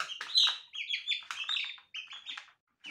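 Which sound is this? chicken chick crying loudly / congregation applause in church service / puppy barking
chicken chick crying loudly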